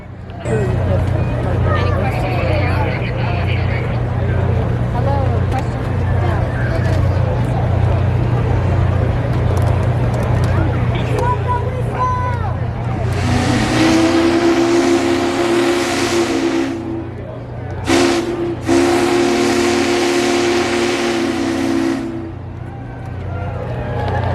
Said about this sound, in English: That's what the whistle sounds like at half of its pressure.